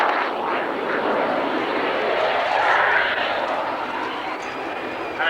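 A grey BAe Hawk advanced jet trainer of Strike Command roars past at a 1991 airshow at Alconbury, a loud broad engine rush swelling and easing over several seconds.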